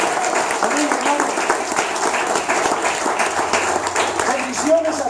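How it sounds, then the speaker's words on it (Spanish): A church congregation applauding: dense clapping from many hands, continuous and moderately loud, with voices mixed in. "Un aplauso a nuestro Señor Jesucristo."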